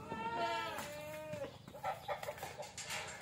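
Goats bleat on a farm during grazing, with one loud, wavering close bleat followed by scattered softer calls and rustling nearby.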